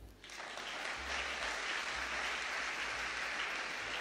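A church congregation applauds a pastor, producing steady, dense clapping that starts abruptly, then holds loud and even for about four seconds with no voices standing out.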